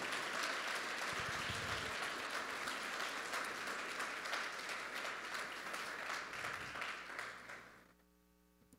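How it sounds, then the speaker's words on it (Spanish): A congregation at a church service claps steadily for several seconds, the applause fading out near the end and leaving a low electrical hum. "Dale un aplauso al Señor."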